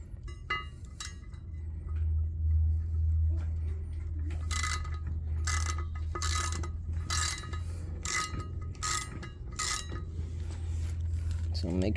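Metallic clicks and ratcheting as T20 screws are backed out of a Can-Am X3 clutch, a series of sharp bursts in short clusters, close and fairly quiet over a low steady hum, with a voice talking.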